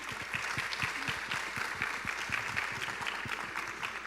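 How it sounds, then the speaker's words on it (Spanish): A panel-discussion audience applauds a guest, with dense, steady clapping that holds at an even level throughout with no pauses. "¿Qué tal si le damos un aplauso?"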